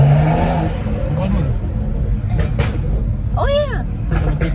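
A BMW car with a modified exhaust revs up loudly and pops, a steady engine roar running throughout with a sharp rising whine near the end, while people talk over it.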